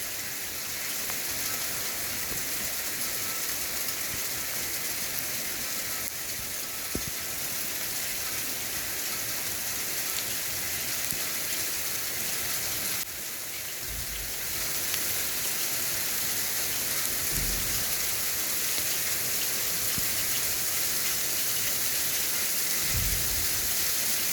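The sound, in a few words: hail falling in a storm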